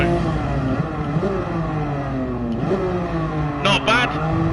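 A race car laps Spa in the Gran Turismo Sport video game, its engine revving and shifting through rising and falling pitches under steady talk, with a brief high squeal near the end.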